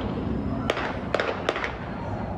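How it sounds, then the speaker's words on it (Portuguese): Gunshots ring out at night in a Salvador suburb neighbourhood: three sharp, distant cracks spaced unevenly over a steady murmur of background noise. "é possível ouvir o barulho dos disparos."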